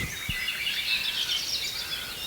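High, thin bird calls chirp continuously at a moderate distance, layered into a faint chorus with a soft low thump early on.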